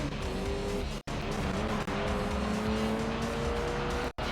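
A Camaro race car roars in Gran Turismo 3, its engine note climbing through gears in a loud, steady drone that briefly cuts out twice.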